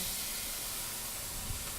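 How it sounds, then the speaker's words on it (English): Chopped onion sizzles in hot oil in a pan, cooked for a cauliflower soup, giving a steady, close, continuous hiss with a slight crackle near the end and no talking. "just take a small bit of onion, it's starting to sizzle"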